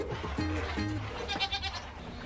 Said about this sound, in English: the baby goats hear us, and they're so loud